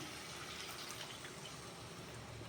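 Water rinsed from a mixer jar poured into a pot of beef curry, a steady soft splashing gush lasting a couple of seconds, fairly close and moderately quiet.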